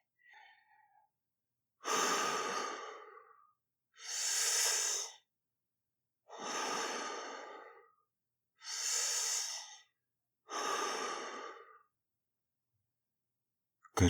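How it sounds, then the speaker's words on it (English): A person takes five slow, deep breaths, each a drawn-out airy rush separated by quiet pauses, close and clear with no talking. "Take some deep breaths with me."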